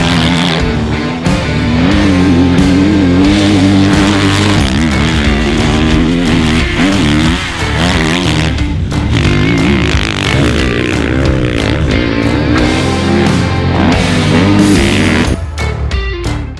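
2021 Kawasaki KX450 motocross dirt bike engine blipping and revving hard on a track, a loud, rapidly rising and falling snarl that continues almost without a break.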